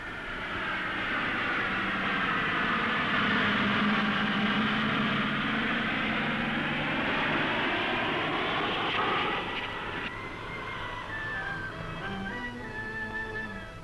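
A fixed-wing aircraft engine roars loud and steady, droning close overhead and then easing off slightly as it passes.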